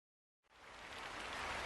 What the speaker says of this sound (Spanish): De la nada empezó a llover,